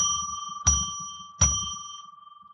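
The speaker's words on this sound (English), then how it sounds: "I'll ring a bell 3 times to declare the sacred space for readings" A bell struck twice in succession, each ring bright and ringing with a long sustained tone that decays slowly, close and clear against a quiet background with no talk.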